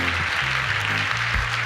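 An awards ceremony crowd claps for a music video winner, broad steady applause running underneath a low droning musical tone that shifts pitch in steps.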